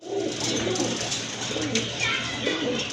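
Pigeons coo in low, repeated rolling calls throughout, kept in a loft among many birds, with a continuous busy background murmur.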